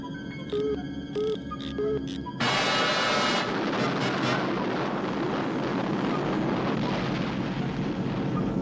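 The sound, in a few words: Air Force One aircraft engine boosters at full power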